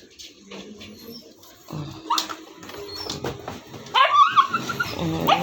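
Shih Tzu dog barking angrily indoors, with sharp yips and whimpering growls coming in irregular bursts, louder toward the end, under some background talk.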